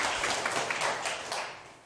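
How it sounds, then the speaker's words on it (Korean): Listeners at a Korean lecture hall clap together in a brief, lively round of applause that is close and full at first, then tapers off quickly. "박수 한번."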